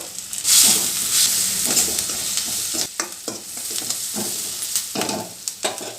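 Food frying in a pan after salt is added, a loud steady sizzle with hissing and repeated scraping stir strokes, no talk.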